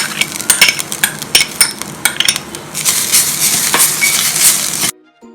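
Fresh coconut being dry roasted in a pan, with repeated scraping stir strokes and a light sizzle up close, growing into a denser continuous rustle before stopping abruptly near the end; no talking.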